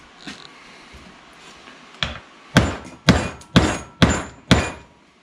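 A hammer strikes a bolt extractor on a 2002 Dodge Ram 2500 with a 24-valve Cummins: a few light taps, then five sharp, evenly spaced metallic blows, loud and close, with no talk.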